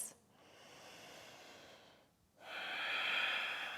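Slow breathing during yoga practice, a long audible inhale through the nose followed after a pause by a fuller, louder exhale, close and hushed.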